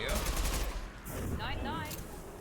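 Gunfire from the sci-fi shooter Mass Effect 2, a dense spread of rapid shots and bursts running through the whole stretch with little pause, fairly loud against a busy game background.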